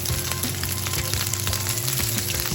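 Sausage fries in a hot pan with a constant dense sizzle, loud and close, over a steady low kitchen hum.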